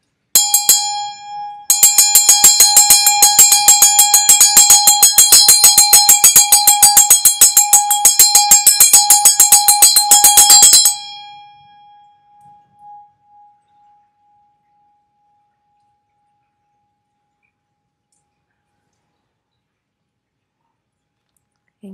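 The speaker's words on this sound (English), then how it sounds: "So, there is the bell." A bell rings alone, struck once, then pealing in a rapid steady run of bright metallic strikes for about nine seconds before stopping and letting a long clear tone fade into silence.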